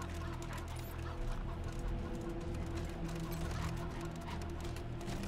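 Chickens cluck in a Wasteland 3 game scene, soft fowl calls under a dense, steady bed of game ambience and music with no speech.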